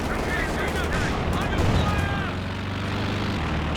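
Gunfire crackles with a droning recon plane overhead in a Company of Heroes 2 match, steady dense battle noise with a commentator talking over it throughout.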